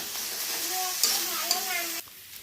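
Dried fish fries without water in a pan, stirred with a utensil, giving a steady sizzle broken by a few scraping strokes before the sound drops away.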